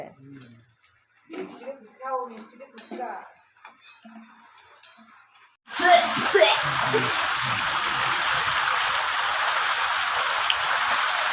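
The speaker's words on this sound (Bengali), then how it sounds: "খুব জোর বৃষ্টি নেমেছে এখানে আমাদের।" Heavy rain pours down steadily and loudly in the second half, a dense continuous hiss of drops hitting surfaces; before it begins, a person speaks over faint kitchen clinks.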